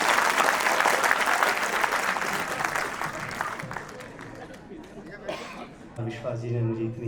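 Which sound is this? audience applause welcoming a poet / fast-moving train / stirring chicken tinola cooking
audience applause welcoming a poet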